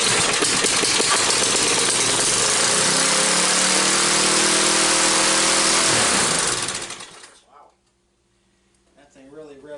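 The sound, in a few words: Troy-Bilt lawn mower engine running and revving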